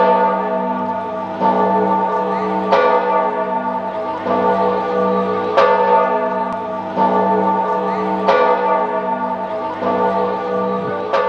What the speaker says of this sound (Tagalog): may mga kampanang mga look at that. Ayun yung kampana eh